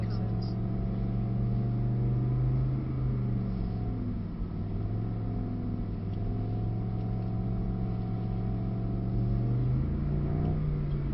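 A Mercedes-Benz SL63 engine drones steadily from inside the car while driving, a low continuous hum with gentle rises in pitch as it pulls, and quiet voices are faintly present.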